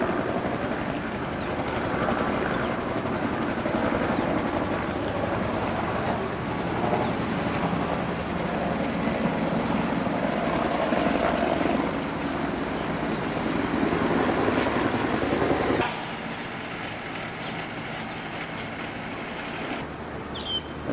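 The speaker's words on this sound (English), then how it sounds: "The old chopper's coming back in now." A helicopter drones continuously and loudly as it flies back in during the Bel Isi operation on Bougainville, its rotor noise steady throughout before dropping somewhat in level near the end.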